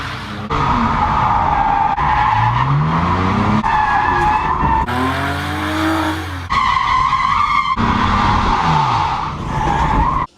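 A Mazda 323 drift car skids with loud, sustained tire squeal over a revving engine, the screech cutting in and out in several long runs as the car slides.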